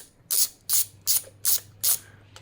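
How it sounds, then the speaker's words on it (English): A spark plug being unscrewed from a 2012 Honda Accord Euro with a ratchet, five evenly spaced close clicking bursts, then a faint sixth. "So keep unscrewing the spark plug and you should be able to pull it out."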